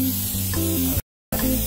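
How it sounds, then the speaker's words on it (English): A cooking spray can hisses in a loud continuous burst, cuts off briefly to silence, then sprays again. "So I'm gonna spray it."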